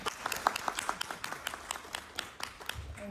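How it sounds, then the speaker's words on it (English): After a panel discussion on Myanmar in Perth, a small audience claps: faint, sparse, uneven hand claps from a few people in a room, fading toward the end. "So I thought, applaud to you guys."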